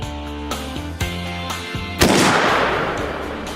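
A Springfield .30-06 rifle, the oldest caliber tested, fires a single loud, sharp shot at a bulletproof target. A sudden blast is followed by a long, noisy decay, with some earlier banging and activity before it.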